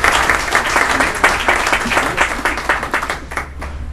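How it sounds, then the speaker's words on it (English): A loud, close round of clapping rises at a city hall of fame induction ceremony as the crowd applauds the mayor and council, individual claps popping out in an uneven rhythm. "give a round of applause to the mayor and to the council for this"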